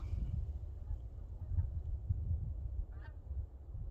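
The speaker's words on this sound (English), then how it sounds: "Oh, I can hear some geese going overhead." Geese honking as they fly overhead at night near a water reservoir, faint and distant calls over low rumbling outdoor background noise.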